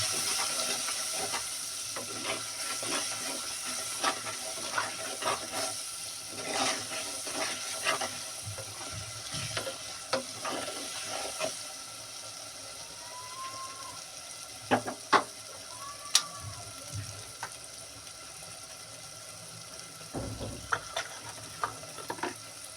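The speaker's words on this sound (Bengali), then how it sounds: "2 চামচের মতো জিরে পাউডার দিয়ে দিলাম। ভালো করে এটা নাড়ি চাড়িয়ে নেব।" Cumin powder is stirred into duck and spinach curry in a hot pan, a close continuous sizzle broken by scattered scraping clicks of the spoon against the pan.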